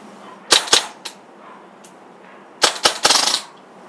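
A Tippmann M4 airsoft marker fed by a CO2 magazine fires sharp, loud cracks: two quick shots, a lone pop, then a rapid cluster of four or five shots near the end, close and dry against a quiet room.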